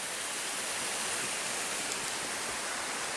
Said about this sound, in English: Stopped at this cute little waterfall here.